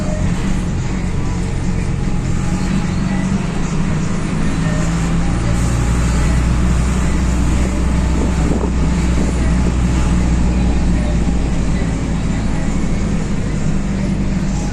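Steady low rumble of a city bus interior in motion in Mindelo, Cape Verde, engine drone and road noise with some wind buffeting, continuous throughout with no talk.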